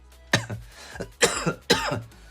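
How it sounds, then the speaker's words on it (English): Three short, sharp coughs from a person with a cold, close to the mic, spaced about half a second apart, with a quieter throaty catch between them. "I'm coughing a little bit."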